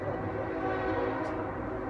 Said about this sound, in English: we have a really nice train here